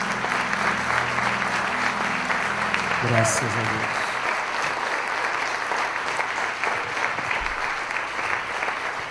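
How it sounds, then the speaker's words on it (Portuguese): A church congregation claps together during a worship service, a dense, even wash of applause, with a voice speaking over it and a brief tone near the start. "Você pode aplaudir a Ele"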